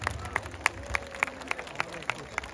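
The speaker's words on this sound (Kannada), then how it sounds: "ಜೋರಾದ ಚಪ್ಪಾಳೆ ಬರಲೇಬೇಕು ಅವ್ರಿಗೋಸ್ಕರ" Steady, evenly spaced claps from a walkathon crowd at an outdoor cancer-awareness event, sharp and moderately near, repeating in a brisk regular rhythm over a low background murmur.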